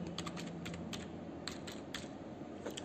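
Typing on a computer keyboard while filling in class and section fields for a computer science practical, with steady quiet clicking keystrokes in bursts over a low background hum.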